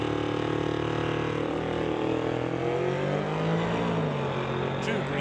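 A 1970 Chevelle and a 1972 Chevelle race side by side at a drag strip, their engines roaring loudly and steadily, with the pitch slowly climbing and falling as the cars pull away.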